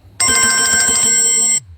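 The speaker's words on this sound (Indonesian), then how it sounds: "Malah bunyi-bunyi lonceng si Ongkor ini" A bell-style phone ringtone plays loud and close, a bright chiming melody that rings clearly on its own for about a second and a half before cutting off.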